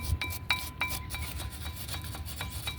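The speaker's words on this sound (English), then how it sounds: "So I'm going to take a wire brush and just get into these grooves." A wire brush scrubs the grooves of a front brake caliper bracket on a Nissan Altima during a brake pad replacement, giving quick rhythmic raspy strokes, close and moderately loud, with no talking.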